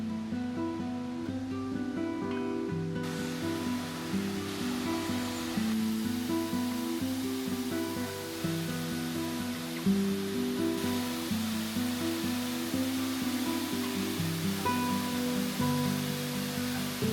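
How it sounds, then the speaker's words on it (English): A waterfall in a national park near Cleveland, Ohio, heard from the top of the falls: a steady, broad rush of falling water sustained throughout, moderately loud, with no one speaking. "So we're at the top of the waterfall now"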